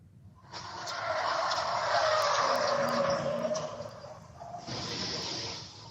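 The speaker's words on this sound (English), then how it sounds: "the moment a pickup truck smashed into a downtown Anchorage restaurant early Sunday morning" A pickup truck crashes into a downtown Anchorage restaurant early on a Sunday morning, caught by a nearby dash cam: a loud, sustained screeching scrape lasting several seconds, then a brief dip and a second burst of grinding noise.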